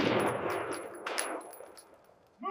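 Combat scene gunfire, a loud close burst of rapid shots that fades out over a couple of seconds before a voice begins at the end.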